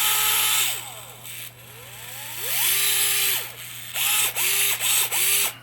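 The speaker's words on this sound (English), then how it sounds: "This is a DeWalt DCF 680. It's a gyro screwdriver" DeWalt DCF680 gyroscopic cordless screwdriver whirring in a run of short bursts, its motor pitch rising and falling as it spins up and winds down, with a ratcheting clutch texture and a steady hum underneath.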